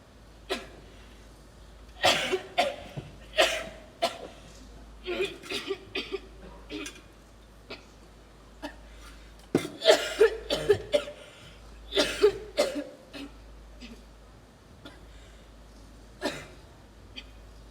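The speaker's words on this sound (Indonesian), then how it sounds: "Batukmu rupanya parah ya?" Repeated harsh coughing fits, close by, in several bursts separated by short pauses and breaths, with a steady low hum underneath.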